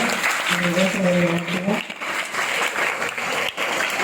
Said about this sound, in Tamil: ஒரு ஜோரான கைத்தட்டலோட